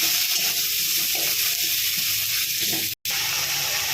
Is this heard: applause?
no